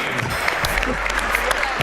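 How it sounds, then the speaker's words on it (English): Crowd applause at a high school girls basketball event honoring the undefeated 1995-96 team, a steady wash of clapping filling the gym for a couple of seconds without talk. "Big round of applause for the undefeated 95-96 girls basketball team"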